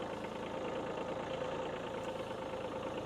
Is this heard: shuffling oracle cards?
no